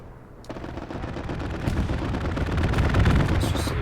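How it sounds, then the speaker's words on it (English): An aircraft strafing run in the game Hell Let Loose: a sudden onset of rapid, overlapping gunfire and impacts builds into a dense, rumbling roar that grows louder and continues unbroken to the end. "Oh, strafing run, unlucky buddy."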